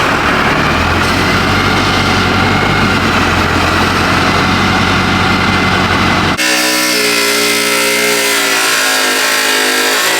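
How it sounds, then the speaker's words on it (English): A Duramax pickup truck engine drones loudly from inside the cab on a road test drive, with heavy road and wind roar that suddenly gives way to a quieter, steady engine hum. "I'm just taking a simple test drive down the road"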